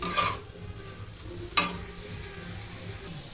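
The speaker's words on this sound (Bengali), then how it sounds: "তো এটা ভাজা হচ্ছে" Pitha fries in ghee in a wok over a low flame, a soft steady sizzle with a couple of sharp scraping stirs near the start and middle, close and fairly quiet, no talk.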